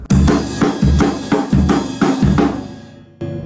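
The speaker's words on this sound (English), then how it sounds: "the kick drum on the top of every bar," D-beat drumming: deep kick drum hits thump on the top of each bar beneath a fast, dense wash of cymbals and guitar, loud and close, fading toward the end.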